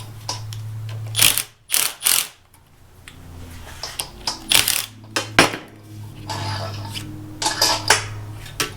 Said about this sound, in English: I'm just gonna loosen up these clamps.